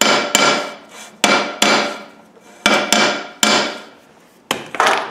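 Sharp hammer strikes ring out in irregular pairs and singles, each metallic hit decaying slowly, close and loud with no talking, while fitting an LT230 transfer box to an LT77 or R380 gearbox.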